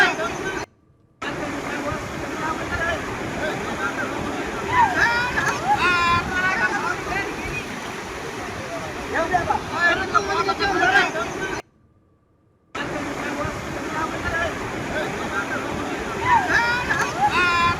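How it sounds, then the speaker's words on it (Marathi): Floodwater of the Gautami river, swollen by heavy rain in Jalna, rushes in a steady, broad roar that fills the whole stretch, with voices talking over it throughout. "गौतमी नदीला पूर आलेला असल्याचं आपण पाहू शकतोय"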